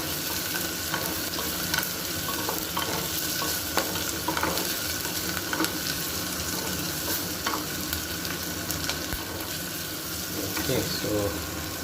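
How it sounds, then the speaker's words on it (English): Kitchen exhaust fan running steadily over stovetop cooking on a medium gas flame, a continuous broadband whoosh with occasional stirring clinks and sizzle mixed in. "The noise you hear is from the exhaust fan."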